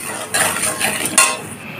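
Spices fry in plenty of hot oil in a pan for Bengali chana dal, a steady close sizzle with two sharp scraping stirs of a utensil against the metal.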